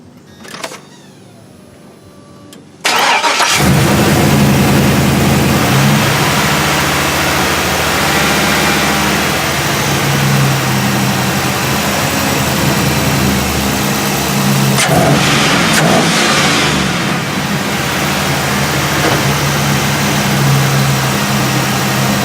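A 5.3 V8 engine cranks and catches after a throttle body replacement, jumping from near quiet to a loud, steady idle with a brief rev swell midway, running continuously with no talking.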